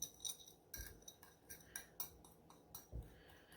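Fork briskly stirring homemade taco seasoning spices in a bowl, a steady rhythm of light scraping clinks about three per second, close and soft, with no talking.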